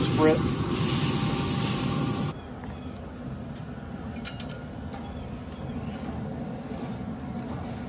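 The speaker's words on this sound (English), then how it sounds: "I'm just going to give another spritz." A spray bottle spritzes racks of ribs on an open pellet grill, a loud continuous hiss for a couple of seconds, then quieter outdoor background.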